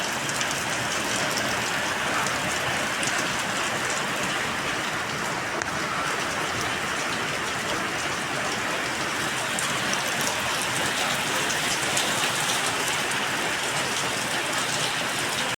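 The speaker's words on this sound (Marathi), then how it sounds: "कंटिन्यू साडेचार वाजल्यापासून पाऊस आहे बघा" Steady heavy rain pours down across the whole stretch, a dense continuous hiss with no pauses or voices.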